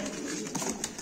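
Tumbler pigeons in a coop give soft, low cooing over a dense, close background of rustling and flock noise in a brief snippet.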